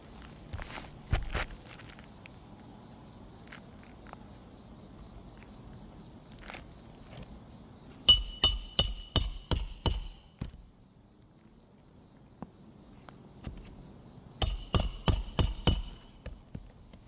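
A hammer drives nails into a wall stud during a home repair. A single early blow is followed by two close bursts of five or six sharp, ringing strikes each, separated by quiet stretches.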